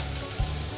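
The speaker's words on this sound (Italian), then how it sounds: "le cipolle iniziano a friggere e iniziano a fare appena appena un po' della loro acqua" Onions frying in a pan on an Italian cooking show make a steady, soft sizzle with one brief low thump midway, and no one speaks.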